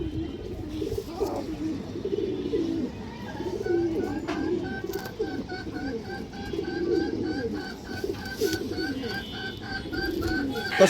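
Army breed pigeons, including a pure army hen, coo steadily in low, throaty, repeating calls, joined by rhythmic higher chirps or clicks through the second half.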